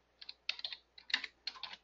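Fingers typing on a computer keyboard in short bursts of quick, light clicks separated by brief pauses, close and fairly quiet with no talk.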